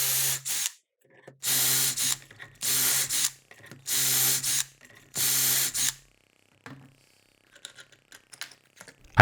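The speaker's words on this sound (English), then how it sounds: "Then I drilled 3 10cm holes on both ends of each board" Holes being drilled through wooden boards with a power drill held in a jig, five loud bursts of roughly a second each in a steady rhythm, followed by quieter handling clicks and knocks.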